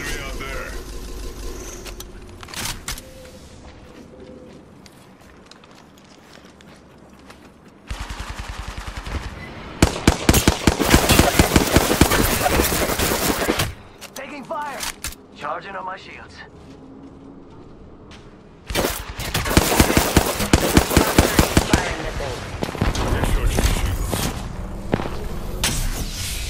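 Rapid automatic gunfire in the Apex Legends video game, several loud sustained bursts separated by quieter stretches of game ambience and in-game voice callouts.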